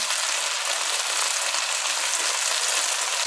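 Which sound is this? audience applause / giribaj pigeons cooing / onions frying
onions frying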